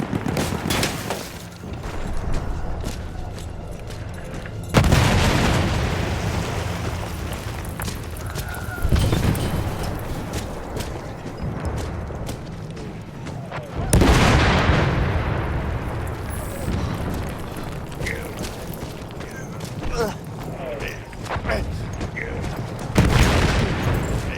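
Battlefield 1 combat erupts in repeated heavy booms and blasts with rattling machine-gun fire between them, loud and dense throughout, with voices mixed in.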